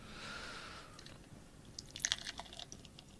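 Raspberry fruit drink poured from a can or bottle into a glass, a soft wet stream at first, then brief crackling fizz and drips close by, faint and alone.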